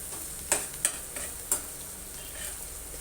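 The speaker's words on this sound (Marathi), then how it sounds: "आता आपण हे परतूया." Chili is stir-fried in a pan over a steady sizzle, with a few sharp scraping strokes of the spatula early on, then a quieter, even frying hiss.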